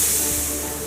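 A voice imitating a snake's hiss produces one steady, breathy hiss that lasts about a second, fairly loud and close, with no other sound.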